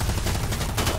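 Gunfire in the Predator: Hunting Grounds video game crackles as a dense, continuous burst of rapid shots across the whole short moment, loud and busy with no clear gaps.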